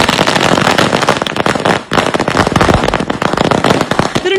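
Dense, rapid firecrackers crackle and burst nonstop near a bus stand in Palayamkottai, Tirunelveli, where party supporters celebrate a swearing-in. The pops come loud and close, one sharp report tumbling over the next.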